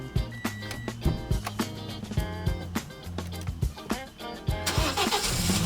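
A car engine cranks and catches amid rapid clicking and rattling, then settles into a rough, busy idle, loud and close.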